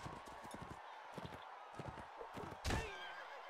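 Horses in the video game Mount & Blade, with a neigh and hoof clatter sounding in a busy arena battle, a loud whinny bursting out near the end, while voices talk over it.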